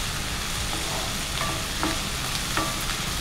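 Potatoes frying in a pan over a mustard seed and curry leaf tempering, with a steady close sizzle and a few clicks of stirring, no voices.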